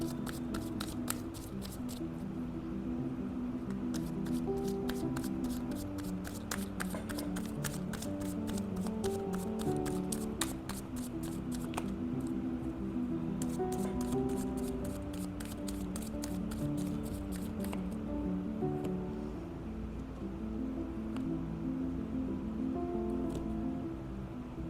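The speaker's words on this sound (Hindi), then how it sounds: "तो चलिए मैं कार्ड्स शफल कर रही हूँ।" Tarot cards shuffled by hand for a long stretch, with rapid riffling bursts and soft slides repeating close to the microphone over a low background hum.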